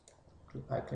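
A single short computer mouse click sounds near the start, quiet and close, followed by a soft voice starting to talk.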